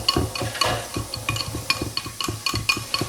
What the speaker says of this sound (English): And I'm going to whisk this together